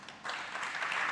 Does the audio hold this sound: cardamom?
no